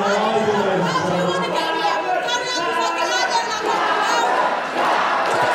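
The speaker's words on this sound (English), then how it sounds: "The crowd love her." Wrestling show crowd cheering and shouting for a woman in the ring, a loud, dense mass of voices with chants and yells swelling throughout, close and sustained.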